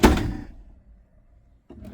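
A drawer in a Super C motorhome slides open with a quick rumbling scrape and a soft thud, then near silence before another short knock at the end.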